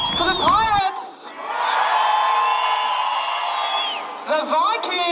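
Spectators roar and whoop in support of the Pirates team during a crowd-judged contest, a sustained wall of shouting and cheering after a brief announcer's voice, with fresh yells rising near the end.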